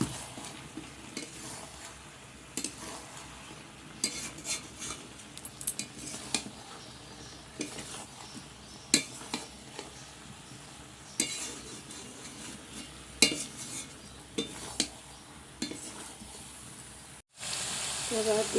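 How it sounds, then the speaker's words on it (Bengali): A spatula or spoon scrapes and stirs food in a cooking pan with garlic paste, giving repeated close scraping strokes over a soft steady sizzle, with no voices. "এবার ভালো করে নাড়তে থাকবো"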